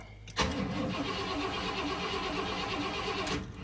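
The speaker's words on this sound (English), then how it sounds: "I'm gonna give it a little start" A hearse's engine cranks and catches, then runs with a rough, steady mid-pitched rumble close by.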